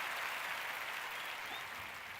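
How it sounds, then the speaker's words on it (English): Audience applause from a live online session on employer-sponsored visas, a soft, steady wash of many hands clapping at a distance, fairly quiet and even, with no voices over it. "Marian, can we have the clapping?"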